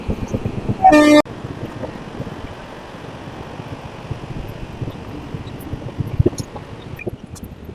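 Rumbling rattle of a fast express train on the Puri to Kolkata line in Odisha, heard from aboard a moving train as it rushes alongside, with a loud horn blast near the start over steady wheel noise.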